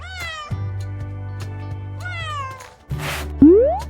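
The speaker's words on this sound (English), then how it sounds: "Cat." A cat meows several times in drawn-out, rising and falling cries, fairly close and clear, with a low steady hum underneath and a sharper final call.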